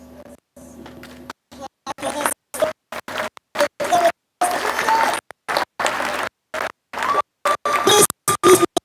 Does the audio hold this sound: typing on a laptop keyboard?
no